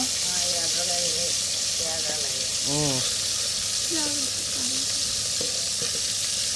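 Fish fries in oil with a loud, dense, continuous sizzle and hiss close by, while a voice talks intermittently over it.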